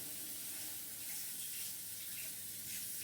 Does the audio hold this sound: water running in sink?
yes